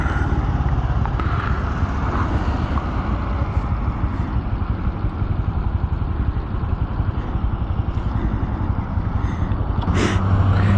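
Honda motorcycle engine heard while riding, a steady, loud droning rumble with wind noise, running close and continuous with no talking.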